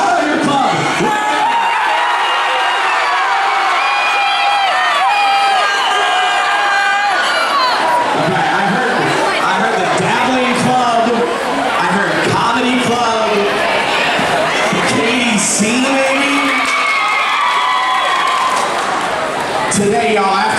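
Students in a school gym on an activity day cheering and shouting out their club names: loud, continuous crowd noise with overlapping yells and whoops throughout.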